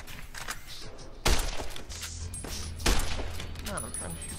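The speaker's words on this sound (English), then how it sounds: "I'm trying to shoot at your legs here" Gunfire in the video game Fallout: New Vegas, with two loud, sharp shots about a second and a half apart, each followed by a brief ringing tail, over a murmur of game background noise.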